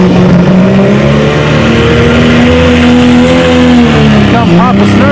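A pulling tractor's engine at a spring tractor pull, roaring loud and close with a sustained droning tone that rises and falls, while crowd and announcer voices carry over it.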